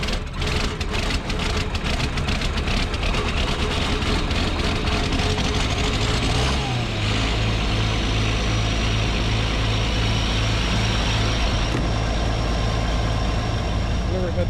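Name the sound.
combine harvester diesel engine cold starting in frost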